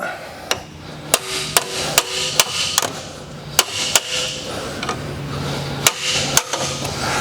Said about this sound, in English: we're going to get a pry bar that has the availability to hammer onto the end of it